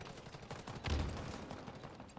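Assault rifle fire in a video game rattles in quick, moderately quiet bursts, with one heavier thump near the middle amid the steady shooting.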